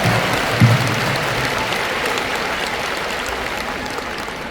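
Applause from a large church assembly audience at a denomination's 45th anniversary gathering, following a choir performance; a steady, dense wash of clapping fills the whole stretch without letting up.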